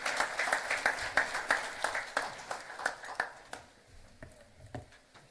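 Audience applause at a national convention of insolvency professionals, a steady patter of many hands clapping in a hall that thins and fades toward the end, with no talk over it.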